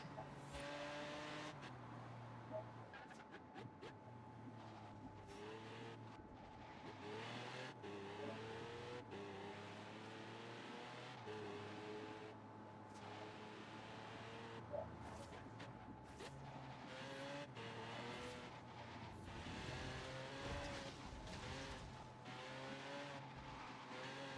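A car in the racing game Forza Horizon 3 drives with a continuous engine drone, shifting revs and occasional tire noise, loud and steady throughout with no talking.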